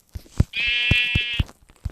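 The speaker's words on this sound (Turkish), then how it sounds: "Orada bir koyun daha var." A sheep bleats once in a long, wavering cry, close and clear, with scattered short thumps and clicks around it, in the video game Minecraft.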